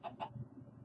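Two short, faint clucks from a Minecraft chicken come in quick succession near the start, followed by a low, quiet background hum.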